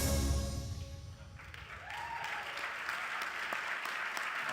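An audience at an award draft event breaks into applause, a faint, steady patter of clapping with a few cheers, starting after a brief moment of quiet.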